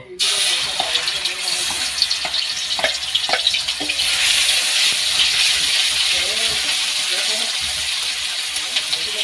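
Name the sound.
onion and garlic poured into hot oil in a wok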